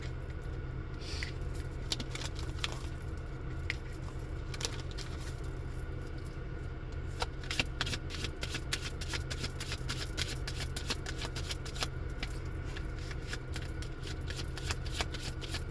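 A deck of tarot cards is shuffled and split, giving a steady run of close, soft riffling and flicking card sounds with brief crisp snaps, heard alone over low room hum.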